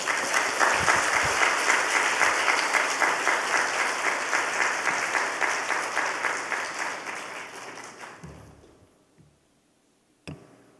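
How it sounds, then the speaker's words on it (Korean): A church congregation at a Friday worship service claps steadily in unison for a visiting missionary speaker, a rhythmic, fairly close applause that slowly fades out, followed by near silence and a single knock. "나오실 때 우리 뜨거운 박수로 환영하겠습니다."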